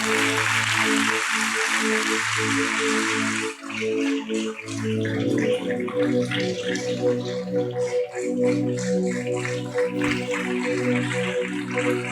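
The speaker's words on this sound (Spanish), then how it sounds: "Si usted puede brindarle un aplauso al Rey." A church congregation at Iglesia Nueva Jerusalén claps loudly for a few seconds over steady sustained music, then the applause thins to scattered claps while the music carries on.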